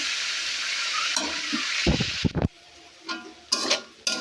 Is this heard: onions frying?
yes